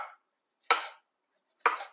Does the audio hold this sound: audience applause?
no